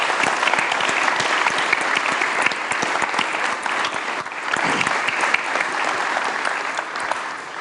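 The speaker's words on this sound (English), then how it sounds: "if we get a round of applause for these two individuals" Sustained applause from a seminar audience, a dense steady clatter of many hands clapping continuously at fairly close range for several seconds with no pause.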